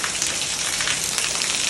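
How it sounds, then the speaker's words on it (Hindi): Heavy rain pouring down steadily as a dense, even hiss with no pauses and no voices. "इतनी जोर का बारिश आ गई"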